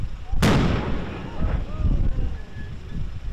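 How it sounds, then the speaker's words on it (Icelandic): A single loud cannon salute booms sharply as the coast guard ship Freyja docks at a harbour pier, followed by a long rumbling echo and wind buffeting the microphone. "Skotið úr fallbissu"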